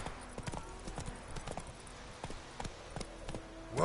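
The horse Roach trots in The Witcher 3, her hooves clip-clopping in a quick, irregular beat that sounds fairly close but quiet, with faint game ambience behind.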